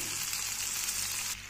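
Onion and garlic paste fries in hot oil for a black pomfret fish masala, a loud, close, continuous sizzle that holds steady and then eases slightly at the very end, with no voices.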